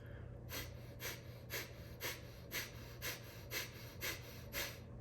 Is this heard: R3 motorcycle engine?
no